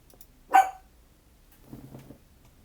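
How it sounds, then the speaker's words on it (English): A dog barks once nearby, one sharp loud yelp, followed by a softer low rumble of muffled movement or murmuring in an otherwise quiet indoor room. "Dog is barking for some reason."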